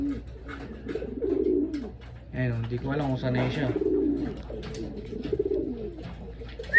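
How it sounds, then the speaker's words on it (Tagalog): A pigeon coos close by in a loft, several soft, throaty rolling calls, while a person talks over and between them. "Ayun yung isang kalapati."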